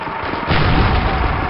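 Gunfire from Call of Duty: United Offensive bursts loudly and close, a dense blast of shots and booms filling the short moment.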